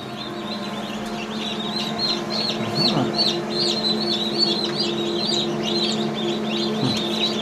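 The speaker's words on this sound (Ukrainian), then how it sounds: "Зараз тільки народжуються." Many high, rapid peeping chirps from just-hatched chicks, still wet, dense and continuous, with a low hum and some handling noise underneath.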